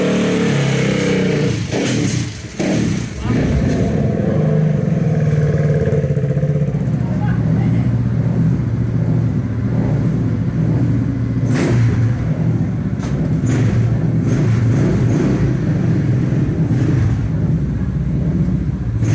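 A KTM 390 racing motorcycle in a Supermono GB race at Oulton Park holds a loud, steady engine drone that rises and falls with revs for the whole stretch.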